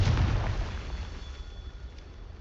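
Confringo blasting spell exploding in the video game Hogwarts Legacy: one loud, deep burst at the start that rumbles on and slowly decays over about two seconds, with no voices.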